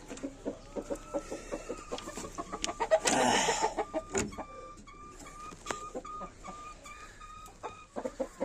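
Breeding hens cluck and chatter close by in short, irregular bursts, with a brief scuffle of noise partway through and a few higher calls after it.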